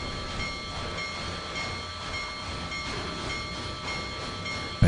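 A C&O 2664 steam locomotive runs steadily in Trainz 2022 on the C&O Hinton route, giving a continuous rumbling rail drone with faint periodic rhythmic beats and no talking.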